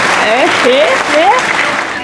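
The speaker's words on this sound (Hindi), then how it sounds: "तालियां बजाओ, तालियां बजाओ।" Clapping to celebrate a chess win, heard close and loud under rising vocal whoops and exclamations that repeat in short bursts.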